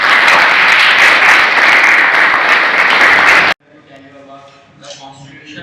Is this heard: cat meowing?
no